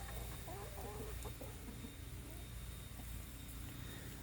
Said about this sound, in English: He is just a gorgeous, gorgeous rooster.